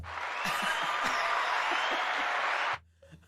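A canned applause sound effect plays on a podcast: a dense burst of clapping and crowd noise that cuts off abruptly after under three seconds, followed by near silence.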